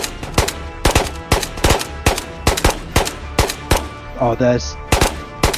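Gunfire in the VR shooter Ghosts of Tabor: loud, sharp single shots repeating at a steady rhythm about every half second, close by, with a brief voice speaking between them.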